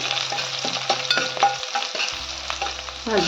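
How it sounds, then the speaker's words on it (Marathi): Curry leaves and green chilies frying in hot oil for spicy crab curry, a close sizzle with crackling pops and spoon scrapes over a low background hum. "कढीपत्ता टाकते, कढीपत्ता आणि मिरची थोडीशी भाजून"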